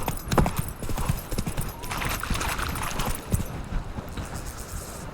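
Horse hooves clip-clop steadily while riding at a walk in a video game, an even rhythm of close, fairly loud footfalls over a busy bed of ambient insect and wind-like background noise.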